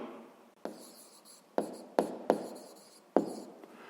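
Pen writing math on paper, close and quiet, a few scratchy strokes with sharp taps as each new stroke begins, no talking.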